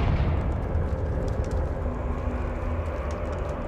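A Confringo fire-blast spell explosion from the video game Hogwarts Legacy: a dense, steady roar of rumbling, crackling blast noise that holds at a constant loudness for several seconds, with no voices.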